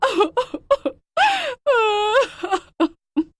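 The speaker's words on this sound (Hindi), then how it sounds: "अचानक से वो जोर जोर से रोने लगती है।" A woman cries and wails loudly in bursts, with long rising-and-falling moaning cries between short sobbing sounds, close and alone.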